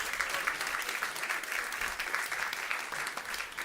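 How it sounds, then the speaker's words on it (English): An audience at a chefs' event applauds, a dense, steady patter of many hands clapping at moderate distance and lasting the whole time without any voices over it. "Give them a round of applause, please."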